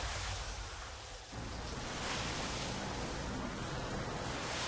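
Foley rumble made by working a glove, a purse and coffee grounds to imitate traffic or ocean surf, a continuous broad rushing wash that swells slightly after a brief dip, with no talk.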